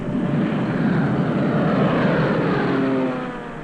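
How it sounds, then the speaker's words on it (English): An Allied reconnaissance plane drones steadily overhead, a loud continuous propeller engine roar that fades slightly toward the end. "Day after day, the Allied reconnaissance planes scoured the European continent."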